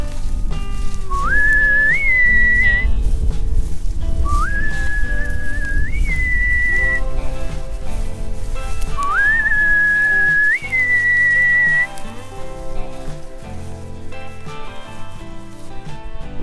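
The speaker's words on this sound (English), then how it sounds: "Think they still come to the whistle?" A person whistles loudly and near to call a herd of buffalo on a farm, three rising, sliding whistle phrases with short gaps, over low background rumble.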